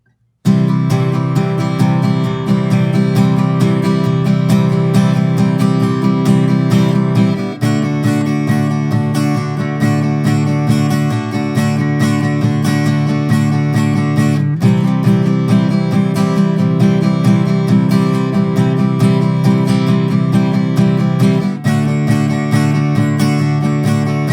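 Acoustic guitar strumming the chords of a song in a steady, repeating rhythm, close and loud, with brief breaks between sections and no voice.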